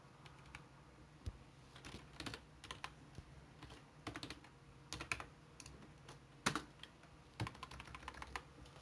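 Fingers type on a computer keyboard, a quiet, close run of irregular clicky keystrokes with small pauses between bursts.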